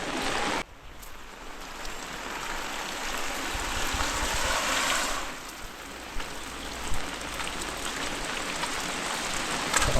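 Heavy monsoon rain pouring down in a Konkan village, a dense continuous hiss of drops on surfaces that briefly dips near the start, then stays loud and steady with no voices.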